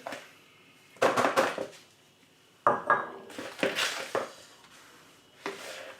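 A whisk beats egg yolks with sugar in a bowl, giving bursts of quick metallic clinks and scrapes close up, separated by brief pauses.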